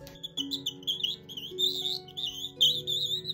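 A bird call imitates a nightingale's song in warbling, fluttering whistled phrases that rise and dip continuously, close and moderately loud with no voices over it.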